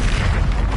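A short, loud, deep boom fills the moment as an Expulso explosion spell goes off while fighting Ashwinders in a Harry Potter video game, a dense rumbling blast with no gap of quiet.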